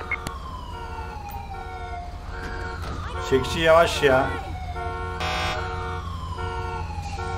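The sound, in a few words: ambulance siren in video game GTA 5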